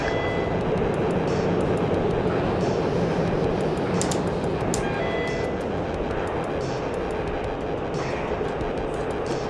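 A Harrier jet flying in the DCS combat flight simulator: a steady, loud jet engine roar holds throughout, with faint clicks and small bursts over it.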